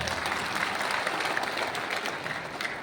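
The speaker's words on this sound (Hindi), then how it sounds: "तो बजा दो जोर से ताली एक बार।" Audience at a Buddhist assembly clapping loudly, a dense, steady burst of applause filling the hall from start to finish, with no talk over it.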